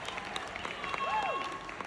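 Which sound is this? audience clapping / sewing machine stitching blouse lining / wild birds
audience clapping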